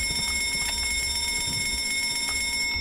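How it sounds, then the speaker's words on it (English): An alarm triggered in the Escape the Backrooms video game rings continuously, a steady loud electronic tone that persists throughout with no voices over it. "Over here, activate the alarm."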